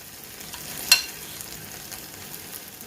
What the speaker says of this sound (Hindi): तो चलिए मैं आपको बाकी के भी फ्राई करके दिखाती हूँ।